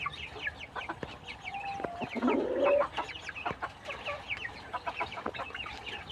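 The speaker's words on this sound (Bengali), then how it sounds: "এগুলো হচ্ছে টাইগার মুরগির বাচ্চা" Tiger chicken chicks and hens cluck and peep repeatedly in a busy, continuous chatter on a farm, with one louder sustained squawk partway through, close by.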